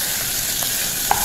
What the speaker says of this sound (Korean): 조금 더 볶아주도록 하겠습니다.